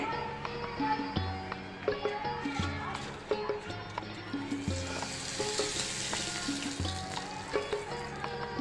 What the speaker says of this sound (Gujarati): એકદમ પતલા પાપડ છે ને એટલે આપણે તેલમાં નાખીએ એટલે તરત જ તળાઈ જાય છે